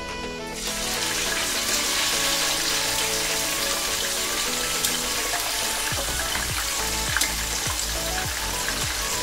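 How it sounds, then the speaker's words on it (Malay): Loud, steady sizzling of chicken and spices frying in a wok for chicken masala, with occasional scraping and stirring knocks toward the end; no voices. "yang nak digoreng saya taruh kat kuali sini ya"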